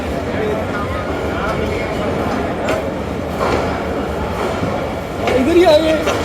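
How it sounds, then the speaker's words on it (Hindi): The 15 Up Karachi Express, running between Multan and Lahore, pulls into a railway station platform. A steady rail rumble with light clatter continues throughout, growing louder near the end, while someone talks over it. "बड़ा ही खूबसूरत और दिलावेज मंजर होता है जब आपकी ट्रेन आपके रेलवे स्टेशन के प्लेटफॉर्म पर अराइव होती है"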